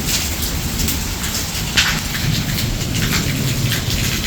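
Steady heavy rain hissing and pattering on surfaces, with a low rumble of thunder throughout and a sharper thunder crack partway through.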